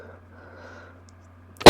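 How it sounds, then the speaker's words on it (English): A single short, sharp cough from a person with a lingering cough breaks a near-silent pause at the very end, loud and close. "I still can't get rid of that horrible cough."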